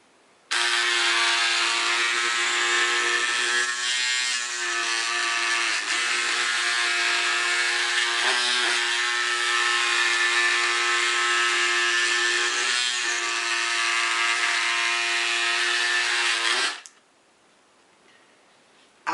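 Edge Again electric hand-held ice skate sharpener runs steadily on a skate blade for about sixteen seconds, a loud, even motor whine with slight changes as it moves along the blade, then switches off abruptly.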